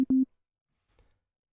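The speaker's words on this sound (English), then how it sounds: "here I have a synth, just the old Retrolog playing a sine wave" Old Retrolog synth playing a plain sine wave: two short steady tones, a brief blip then a longer held note, followed by near silence with a faint low thump.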